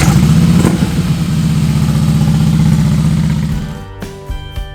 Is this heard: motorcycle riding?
yes